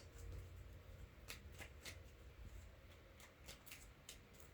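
Tarot cards are shuffled by hand in a quiet room, giving soft riffling rustles and a run of sharp little slaps and snaps as the deck is cut and bridged, close and faint.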